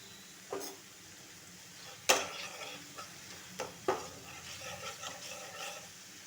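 Spice paste of turmeric and chili powder being stirred and fried in a pan, with a soft continuous sizzle and several sharp scraping clacks of a spatula against the metal.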